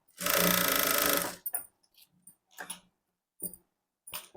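A sewing machine stitches blouse fabric in one fast, steady run of about a second, followed by scattered clicks and handling noises as the cloth is turned.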